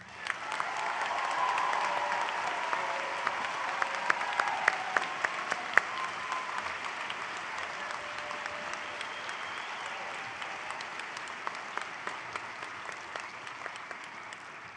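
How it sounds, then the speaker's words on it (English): Audience applause for a large graduating class at a spring convocation ceremony, dense and sustained throughout with many scattered sharp claps, swelling early and staying steady at moderate loudness. "Let's take some time now and applaud this group."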